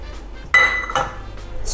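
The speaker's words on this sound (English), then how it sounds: "stir that around really good" A utensil knocks and clinks against a pan while stirring, a bright metallic ring followed by a softer clatter, close and brief.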